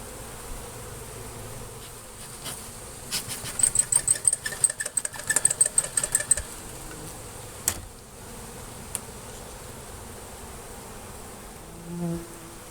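Honeybees from a swarm buzz steadily in the background, with a busy stretch of closer, pulsing buzzing and faint clicks partway through.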